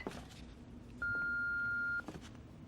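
A telephone being dialed produces a single steady DTMF tone lasting about a second, set within a faint, quiet room background.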